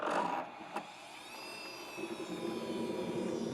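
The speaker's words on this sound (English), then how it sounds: "All right, guys, so we are running two engines now." Two small turbine jet engines on a Su-30 RC model jet run together, a steady high whine with a rising tonal pitch and a broad rushing roar, fairly close and alone without talk.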